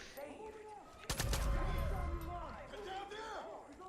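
A single sharp sniper rifle shot in Far Cry 5 cracks out loud and close, followed by a short echoing tail under continuous talk.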